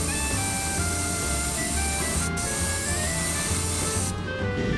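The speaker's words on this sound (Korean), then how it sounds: "충분히 뿌려줄게요" A continuous loud hiss of Gaianotes multi primer sprayed from a spray can onto an unsanded model surface. It runs unbroken at close range and cuts off near the end, with no talking.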